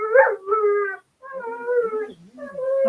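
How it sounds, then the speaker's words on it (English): A dog howls in long wavering cries with a few whimpering yips between them, close by and loud, with no one speaking. "I can hear a dog."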